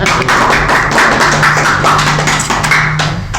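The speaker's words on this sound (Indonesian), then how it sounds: "Tepuk tangan untuk ibu kita." Dense, steady clapping at a school gathering, given as applause for a mother; brisk, close and fairly loud, with a low hum underneath and no talking.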